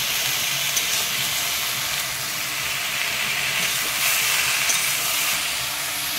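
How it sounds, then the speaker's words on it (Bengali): Ridge gourd slices fry in a pan while being stirred, giving a steady, close, broadband sizzle with faint scraping textures throughout and no voices. "এবার এখানে আমার ঝিঙেগুলো হালকা নাড়াচাড়া করে ভাজা হয়ে গেছে।"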